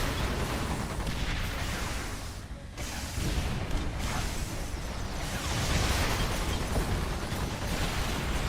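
Missile launcher blasts in the video game EDF: Insect Armageddon make a dense, continuous roar of explosions and bursts. The noise is loud and sustained throughout, with one brief dip partway through.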